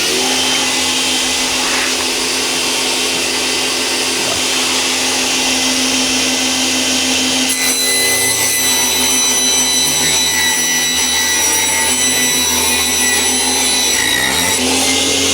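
A table saw rips 1/2 inch plywood into 60 inch by 5.5 inch strips, a loud steady whine with a brighter, harsher cutting tone in the second half, running continuously with no voices.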